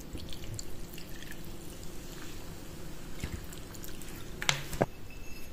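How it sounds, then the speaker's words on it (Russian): Mineral water is poured over mushrooms, onion and carrot in a dish in a village kitchen, a soft continuous trickle and splash with a couple of louder drips near the end. "Заливаю это все минеральной водичкой."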